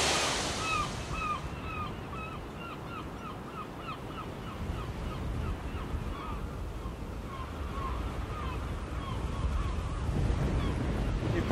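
Waves breaking on a beach, a broad, steady wash of surf with wind rumbling on the microphone, joined by a run of repeated bird calls in the first half, moderately loud and swelling toward the end.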